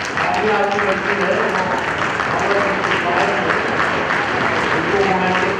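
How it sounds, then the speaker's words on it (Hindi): Continuous crowd clapping at a children's youth parliament gathering in Siwan, even and loud across the whole stretch, with some voices underneath. "तालियां आपकी बजती है।"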